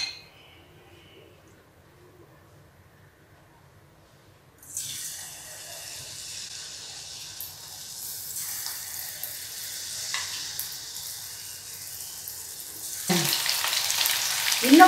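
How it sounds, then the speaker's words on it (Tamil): Marinated prawns for Prawn 65 go into hot oil to deep fry. Near-silence gives way to a sizzle that starts abruptly, builds gradually and swells into a louder, harsher burst near the end. "அதை வந்து இப்போது எண்ணெயில் போட்டு பொறிச்சு எடுக்க போகிறேன்."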